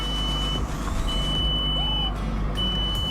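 Reversing warning beeps from a FOMM ONE electric car, a steady high-pitched tone that repeats in separate pulses with short gaps, heard close over a constant low engine-bay hum and background road noise.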